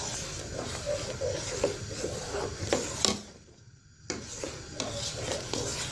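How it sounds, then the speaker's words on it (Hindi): Spoon stirring boiling milk with rice and crushed carrots in a pot for carrot halwa, a continuous scraping and swishing with a brief quiet pause midway, close and fairly loud. "चम्मच इसका लगातार मैं हिलाती रहूँगी"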